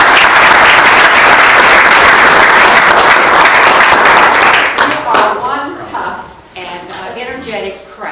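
A crowd at a campaign appearance at UMF claps loudly and energetically, a thick roar of applause that tapers off after about five seconds as a voice begins speaking.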